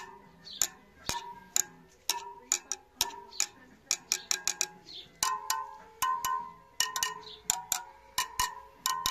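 Light metallic taps ping off Royal Enfield Himalayan motorcycle wheel spokes one after another, mostly bright and ringing, a few sounding duller, in an uneven close-up rhythm.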